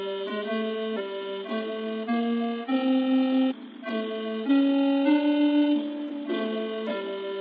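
Pokémon game music sample pitched down and time-stretched, heard alone as sustained, thinned synth notes that step through a slow melodic pattern at an even level, with one brief dip midway.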